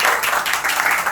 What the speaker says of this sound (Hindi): पहले तो इनके लिए आप लोग ताली बजाइए